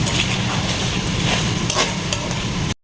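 Spicy pork adobo stirred in a pan, a steady close sizzle with scraping stirs and soft clatter, running without pause until it cuts off abruptly.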